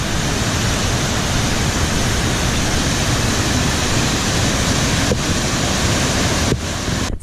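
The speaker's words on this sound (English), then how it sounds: "there's another little waterfall up here." A small waterfall beside a hiking trail in Banff National Park makes a loud, unbroken rushing roar of falling water, close by and steady, with some wind buffeting the microphone.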